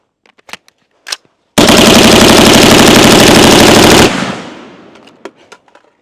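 Geissele Super Duty HBAR rifle emptying a full magazine on full auto: a few scattered sharp shots, then a loud, continuous, rapid roar of fire for about two and a half seconds that cuts off into a fading echo and a few faint clicks.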